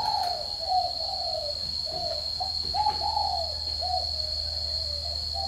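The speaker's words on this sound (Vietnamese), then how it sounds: "Chim trần các bạn nhé, chim trần luôn." Several spotted doves call in soft, repeated cooing phrases through a steady high hum, one after another, fairly close and with no voices.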